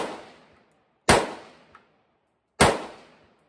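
Two sharp, loud AR-15 rifle shots from a budget Palmetto State Armory and Bear Creek Arsenal build ring out about a second and a half apart at an outdoor range, each one trailing a decaying echo. The tail of an earlier shot fades at the start.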